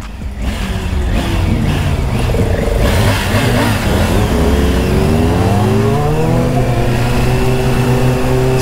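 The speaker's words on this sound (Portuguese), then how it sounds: "Essa moto, mano, tem kit shifter. Você não precisa apertar a embreagem. Ó, eu reduzindo." A motorcycle fitted with a quickshifter kit, engine droning loud and close as it downshifts without the clutch, pitch stepping and sweeping through several gear changes over a continuous roar.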